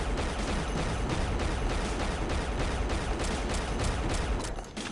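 Dense, continuous gunfire from the Unreal: Return to Na Pali first-person shooter, a loud sustained barrage of rapid shots filling the whole stretch, cutting off abruptly at the very end.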